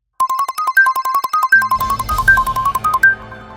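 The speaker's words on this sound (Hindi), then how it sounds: "किसका फोन है?" A mobile phone ringtone plays loud and near, a quick repeating electronic melody of bright beeping notes, with a low rumbling underlay joining partway through.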